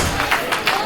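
A capacity arena crowd at a wrestling match roars steadily, with swelling surges of cheering across the moment, while an announcer talks over the noise.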